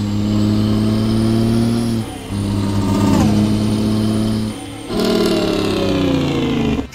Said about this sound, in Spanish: Ese freno de motor suena una yesera.